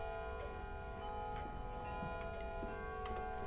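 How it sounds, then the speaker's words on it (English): Steady ticking of a clock in the Amnesia horror game mod Amadeus, faint and regular over a constant hum in an eerie indoor setting. "I heard a clock."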